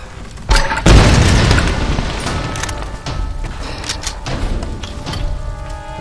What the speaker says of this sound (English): that's a barrier you have to get through with a grenade launcher